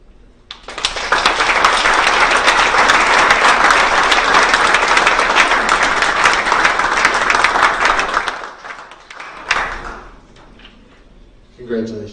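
Sustained, loud audience applause honoring Hall of Fame inductees at an induction ceremony, a dense wall of clapping lasting about eight seconds before tapering off into scattered claps and room noise.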